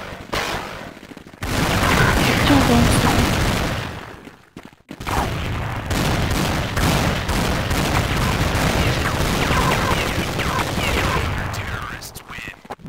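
Gunfire in Counter-Strike on the de_train map, dense bursts of rapid shots and automatic fire filling most of the stretch, with brief quiet gaps and faint voices underneath.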